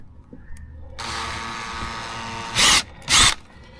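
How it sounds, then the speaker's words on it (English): A power drill whirs steadily at high speed, then gives two short louder bursts as it bites through material while drilling a hole to install a Gio Titan foot pedal accelerator, close by. "Let's try to drill another hole."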